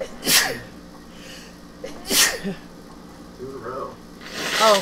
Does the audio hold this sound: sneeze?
yes